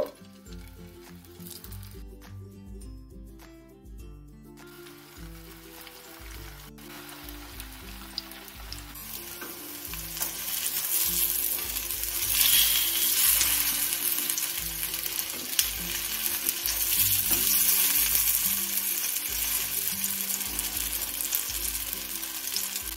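Cauliflower tikiyas shallow-frying in white oil in a frying pan over a low-to-medium gas flame, a steady sizzle that swells louder after the first several seconds, with background music running underneath throughout.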